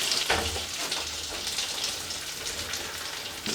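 Onion and leek sizzling in melted butter and oil in a pan over medium heat, a steady crackling hiss with a soft low rumble underneath, close and even throughout.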